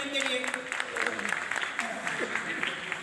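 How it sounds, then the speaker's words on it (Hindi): Studio audience at a Pakistani quiz competition breaking into a burst of applause after a correct answer, many hands clapping together in a dense patter lasting a few seconds with no talk over it. "तालियां होनी चाहिए इनके लिए।"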